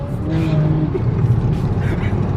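BMW E36 M3 doing a low, droning flyby, its engine note steady and loud throughout with broadband road and wind noise, while people talk over it.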